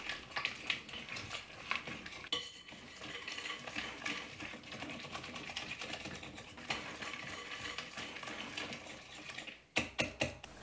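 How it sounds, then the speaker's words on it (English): Gluten-free lemon cookie dough of softened butter and one egg being mixed, giving a steady run of close, busy whirring and rattling, with short breaks near the start and near the end. "give this a really good mix"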